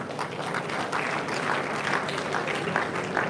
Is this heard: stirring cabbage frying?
no